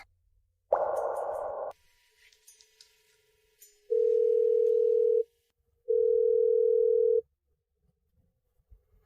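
A telephone line sounds while a call is placed: after a brief clatter of handling, two separate long, steady tone beeps ring out clearly in an otherwise quiet room, with no talk.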